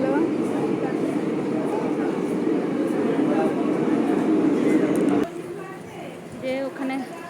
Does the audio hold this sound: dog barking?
no